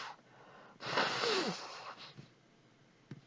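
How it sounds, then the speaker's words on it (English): One loud, honking nose blow into a handkerchief lasting about a second, followed by a few short sniffs and snuffles. "Blowing your nose in a handkerchief."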